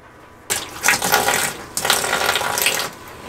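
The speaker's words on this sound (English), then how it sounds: "you're going to dump about 3 to 5 ounces of bleach down the brine well" Liquid bleach poured down a water softener brine well: a quiet start, then a splashing, gurgling pour with a short break midway before a second stream, close and fairly loud, with no talk.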